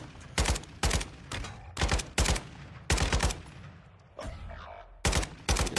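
Rapid bursts of sniper and automatic gunfire in a shooter video game, loud sharp cracks in clusters of two or three shots spread across the stretch, with no talking.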